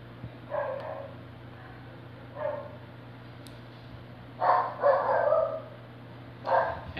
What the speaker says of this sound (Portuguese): É cachorro.